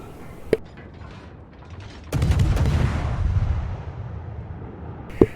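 Naval guns of a warship in a naval video game fire on the battleship Colorado: a sharp shot, then a heavy rumbling salvo that decays slowly, and another sharp report at the end, with no talking.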